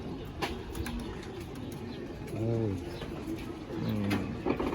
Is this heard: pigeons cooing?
yes